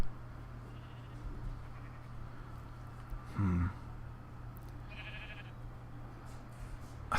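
A sheep bleats in the video game Minecraft, one short call against a steady low hum, with another faint call a little later.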